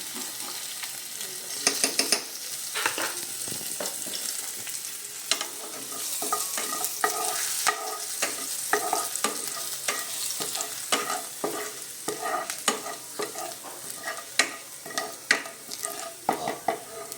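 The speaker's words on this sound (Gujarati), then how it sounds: "થોડું જીરું હવે આપણે નાખીશું થોડું લસણ મરચાંની પેસ્ટ જેથી ટેસ્ટ સરસ આવે વઘારમાં" Garlic-chili paste and cumin seeds crackle and sizzle in hot tempering oil in a pan, with steady frying hiss punctuated by frequent spatters and occasional stirring clinks, close and continuous.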